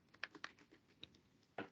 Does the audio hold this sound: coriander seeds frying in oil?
no